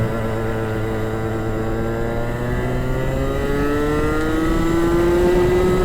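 Rotax two-stroke kart engine racing around the Circuit de l'Europe, a continuous high-pitched buzz whose pitch slides steadily upward as it accelerates, loud and close with no talking.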